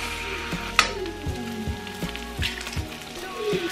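Two eggs fry in a pan with onions, giving a steady crackling sizzle with small pops and a sharp clink near the start, close and continuous with no talking.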